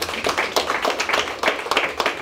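Audience clapping at a Paris African diaspora artisan fair ceremony, a dense burst of many hands applauding steadily and fairly close for the whole moment, with no voices over it.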